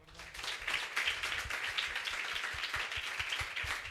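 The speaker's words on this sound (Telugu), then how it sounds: "చప్పట్లు కొడదాం" A congregation at a church youth meeting claps together, a steady, fairly quiet wash of many hands with a loose rhythmic pulse lasting several seconds.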